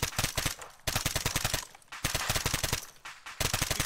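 Video game gunfire from a WW3 military shooter crackles in rapid automatic bursts, loud and close. Several volleys are broken by short pauses.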